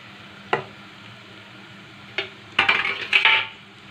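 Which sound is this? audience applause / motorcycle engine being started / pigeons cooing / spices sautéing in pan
spices sautéing in pan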